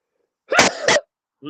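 A single loud, close sneeze in two bursts, followed after a short pause by the start of a voice.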